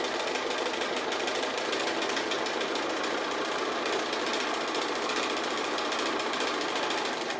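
Sewing machine running steadily while stitching a double line on a cat appliqué, a continuous close whirring drone with no pauses and no voices.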